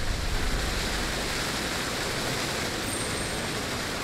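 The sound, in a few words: waterfall rushing in the video game Fatal Frame: Maiden of Black Water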